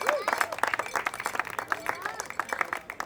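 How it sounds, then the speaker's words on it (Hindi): An awards-night crowd breaks into applause, steady and moderately loud, with a voice talking over the clapping. "तो एक बार जोरदार तालियां सुनील दहिया जी के लिए."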